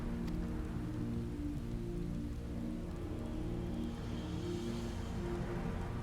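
Steady rain pours down in Final Fantasy XIV, a dense even patter that holds at one level throughout, with no clear thunderclap standing out, though a low rumble sits under the hiss.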